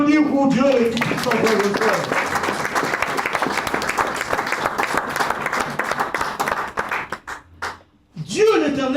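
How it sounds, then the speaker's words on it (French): A church congregation claps loudly and steadily in praise, dense rhythmic applause, with a voice speaking over the start. The applause thins and stops near the end before the voice returns. "Vous pouvez applaudir pour Dieu, les tout-puissants."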